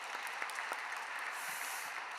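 A church congregation at an early-morning worship service applauds in thanks to the preacher, a steady, fairly faint wash of clapping that holds evenly for a couple of seconds.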